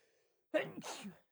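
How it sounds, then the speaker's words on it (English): A single close, sharp sneeze bursts out after a moment of near silence, followed by a brief breathy trailing sound. "Sneeze break."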